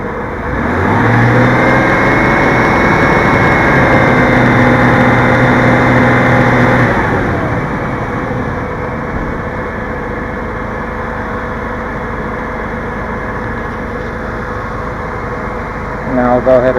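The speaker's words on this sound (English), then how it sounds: "increase my RPM to 2500 for 5 seconds" A car engine is held at a steady elevated speed of about 2500 RPM for roughly six seconds, then drops back toward idle. It hums loud and close, and a voice talks over the running engine.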